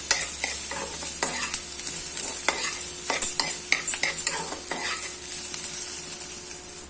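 Egg and soybean fry in a hot pan and get stirred, giving a steady close sizzle broken by scraping, clattering stirs of the spoon with no talk.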